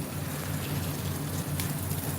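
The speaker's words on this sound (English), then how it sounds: "It's raining." Rain falling outdoors, a steady close hiss and patter of drops across the whole moment, over a low droning hum.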